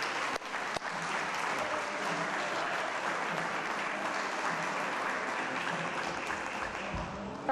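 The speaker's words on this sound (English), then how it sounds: "How about a nice round of applause for Mr. Dave Richins?" A crowd applauds steadily at a city council update event, a dense, even wash of clapping that holds at moderate loudness for several seconds.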